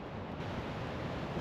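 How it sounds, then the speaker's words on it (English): Victoria Falls roars as a constant dense wash of falling water, loud and close, mixed with some wind buffeting and no voices. "This waterfall is absolutely incredible."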